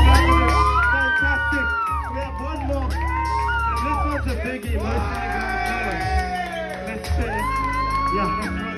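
Crowd at a first rap show whooping, shouting and cheering for the rapper, loud and sustained, with voices yelling out over the roar and no pause in the noise.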